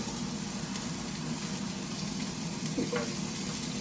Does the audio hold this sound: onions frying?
yes